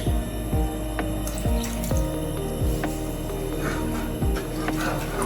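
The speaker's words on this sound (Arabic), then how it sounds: "هلا بعد ما نزلت السميد على القطر رح اضيف ماء الزهر" Orange blossom water poured into a pot of semolina syrup for Aleppo-style mamounia, a continuous close liquid trickle and splash alongside repeated low thumps and clatter, with no speech.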